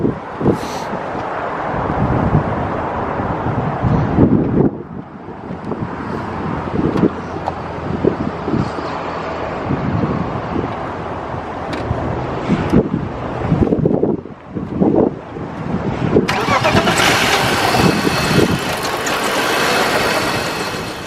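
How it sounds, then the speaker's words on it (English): A BMW track car engine on its first cold start after new spark plugs, a rough, uneven engine rumble with revs rising and falling, heavy wind noise over the microphone, and no speech. "First cold start after putting new plugs in."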